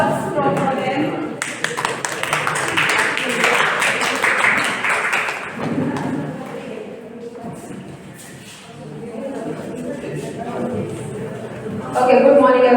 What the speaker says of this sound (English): Can we have applause from them?